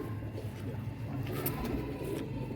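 A returning racing pigeon coos softly and repeatedly at close range against a low, steady background hum.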